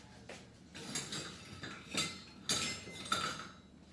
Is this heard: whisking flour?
yes